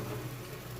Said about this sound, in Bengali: আমাদের ফ্ল্যাটের নিচে গাড়ি টাড়ি যায়